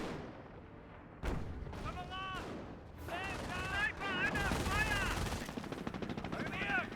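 Gunfire and explosions sound in a Company of Heroes 1 battle between Wehrmacht and British forces, with sharp cracks, booming impacts and rattling bursts under a steady background of battle noise and shouted voices.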